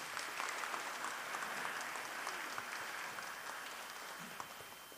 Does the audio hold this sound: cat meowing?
no